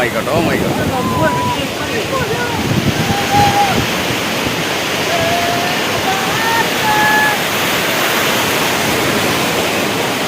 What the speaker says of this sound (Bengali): সমুদ্রের এত বড় বড় ঢেউ